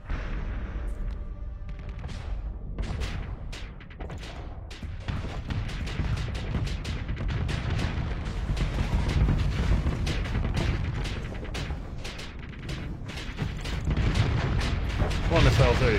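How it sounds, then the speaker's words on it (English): Missiles fire in a space combat video game as a dense, continuous barrage of booming launches and blasts, loud and sustained throughout with no pauses. "Come on, missiles, there you go."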